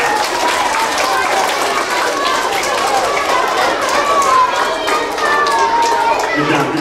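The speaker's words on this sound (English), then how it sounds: "Give a round of applause" An elementary school assembly audience claps steadily, a dense, even patter of many hands filling the room for several seconds, with children's chatter mixed in underneath.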